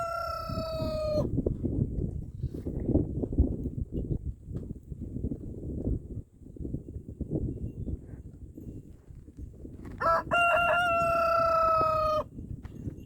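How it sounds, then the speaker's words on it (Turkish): A rooster crows loudly at the start and again near the end, with clucking, rustling and shuffling sounds in between. "Ne öttün be horoz?"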